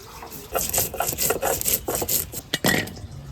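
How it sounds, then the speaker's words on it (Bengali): Seeds and poppy seeds are ground by hand into a paste, with rhythmic back-and-forth gritty grinding strokes, close and fairly loud, and no talking. "এই শস্যটা আমি বেটে নিচ্ছি, এখন পোস্তটা দিয়ে নিচ্ছি।"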